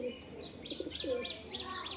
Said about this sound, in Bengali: এই এক জোড়া ম্যাটাজ কবুতর দেখাচ্ছি তোমাদের, এটা হচ্ছে মাদি আর এটা হচ্ছে নর।